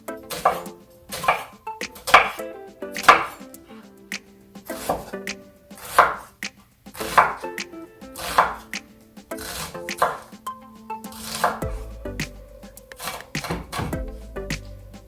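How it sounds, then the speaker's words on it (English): Sharp, rhythmic knife chops dicing an onion on a cutting board, about a dozen crisp strikes at an uneven pace, close and clear with no talking. "We're going to finely dice the onion."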